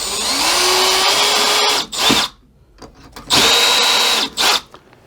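Power drill boring a pilot hole in wood with a self-centering bit, two bursts of high whining spin of about two seconds each, separated by a pause with brief clicks and short revs.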